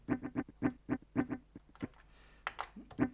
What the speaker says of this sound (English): This is more like a muted guitar sound.